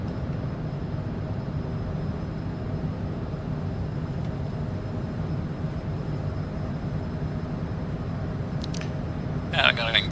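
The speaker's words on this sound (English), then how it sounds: "So we're climbing out over Jakarta." Steady broadband drone of a small aircraft climbing out after takeoff over Jakarta with gear and flaps up, continuous and even throughout, with a brief higher-pitched electronic chirp near the end.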